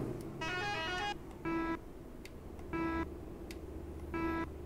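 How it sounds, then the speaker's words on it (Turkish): Horn of a 2021 Mercedes Travego coach sounding in short, clipped honks, four separate bursts with brief gaps between them, moderately close over quiet background hum. "Bu korna biraz garip olmuş, böyle kısa kısa geliyor."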